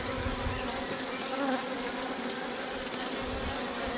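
Honeybees buzz inside an opened hive, a dense, steady, close hum that stays constant with no talk.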